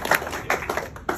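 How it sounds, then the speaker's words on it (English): Sparse, close handclaps at a talk event, a few separate claps spread over a second rather than a full crowd ovation. "Second round of applause to all of you."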